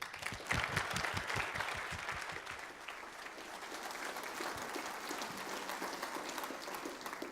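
A conference audience claps before a talk by Vint Cerf on the future of the internet, steady hall-wide applause at moderate distance that holds throughout, with some brief louder claps near the start.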